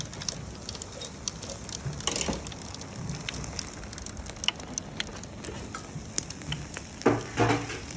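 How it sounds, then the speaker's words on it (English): Prawns sizzling in garlic and chilli butter on a BBQ, a steady crackling hiss with occasional sharper pops, close and even throughout. "we're going to put them into the butter and just finish them in the garlic and chilli butter"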